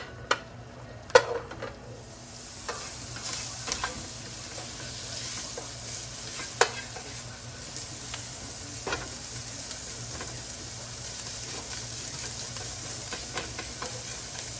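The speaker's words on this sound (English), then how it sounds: "it is a little bit harder to break up sausage in this form, so I'm just using a little extra help here with the other spatula" Sausage for spaghetti sizzles steadily in a pan while two spatulas break it up, with a continuous close frying hiss punctuated by sharp scrapes and clacks of the utensils against the pan.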